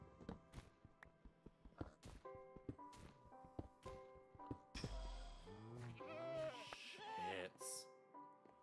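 Goats bleat in the blocky survival video game Minecraft, several wavering cries in the second half following a run of soft thunks and footstep-like taps, quiet and close.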